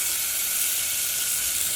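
Roughly chopped tomato hits a hot pan and sets off a steady, bright sizzle that holds evenly throughout, close and fairly loud, with no voices.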